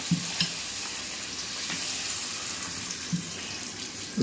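Food sizzling steadily in hot oil in a pan, a continuous close fry with a few faint clinks of utensils and no talk over it.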